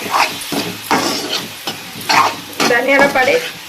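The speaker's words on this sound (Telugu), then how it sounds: "తర్వాత ధనియాల పొడి, గరం మసాలా ఇవన్నీ వేసేసుకొని అయితే కలిపేసుకోవాలి" Tomato fry curry being stirred after coriander powder and garam masala go in: loud, close scraping strokes in an irregular rhythm over a continuous sizzle, with no speech.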